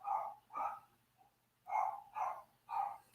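A visiting dog barks nearby in an indoor home setting, giving a series of five or six moderate woofs in two clusters separated by a short pause, heard on its own.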